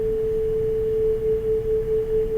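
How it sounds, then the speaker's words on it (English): Two interfering steady tones produce sound beats, a single pure hum that swells and fades in a regular loud-soft pulse, near and alone. "This is the beat sound that you hear."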